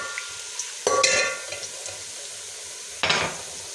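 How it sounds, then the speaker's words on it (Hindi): Onions frying and being stirred in a pot for chicken yakhni pulao, with two loud bursts of scraping and sizzling against a quiet, steady background hiss. "हमारा प्याज जो वो बिल्कुल फ्राई होने वाला है"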